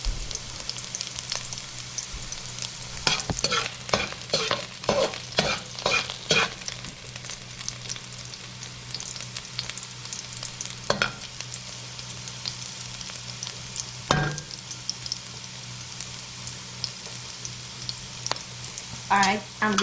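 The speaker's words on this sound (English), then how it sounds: "we're gonna saute the garlic" Garlic, with a stray bit of pepper, sautés in a pan, giving a steady close sizzle broken by a cluster of scraping stir strokes early on and a few more sharp spoon knocks later.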